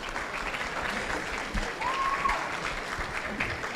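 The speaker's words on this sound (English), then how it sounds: "Please give them a round of applause." An audience at a hackathon gives steady applause at a moderate level, and a brief whistle-like tone rises over the clapping midway through.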